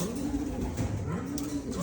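Soft, low racing pigeon cooing rolls along in repeated murmurs over a steady background rustle, fairly close and unhurried.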